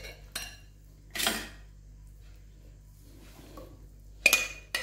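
Chicken wings tip into an oven dish in three separate bursts, each a short clatter of metal and ceramic against the dish, close by and with quiet gaps between.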